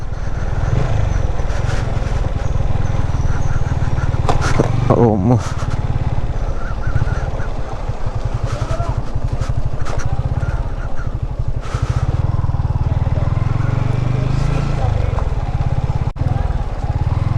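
Motorcycle engine running steadily at close range on an international ride while being maneuvered into a parking spot among many other bikes, with a brief clatter midway and a person talking over it.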